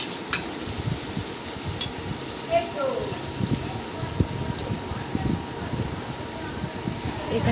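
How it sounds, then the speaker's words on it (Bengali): Onion, ginger and garlic frying together in a pan make a continuous soft sizzle with scattered stirring clicks and scrapes, close up and fairly steady. "পেঁয়াজ আদা রসুন একসাথে ভালোভাবে ভেজে"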